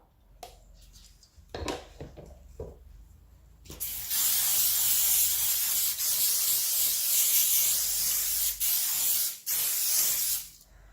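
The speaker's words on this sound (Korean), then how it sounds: "올리브 오일 스프레이를 뿌려줄 거예요." Olive oil cooking spray hisses steadily onto a waffle iron for several seconds after a few soft handling knocks, close and fairly loud, with brief gaps where the nozzle is released.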